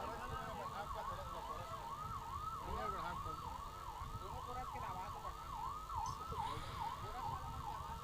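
An ambulance siren wails in a fast, rapidly repeating up-and-down sweep, steady and fairly faint, as if from some distance, with a low rumble beneath.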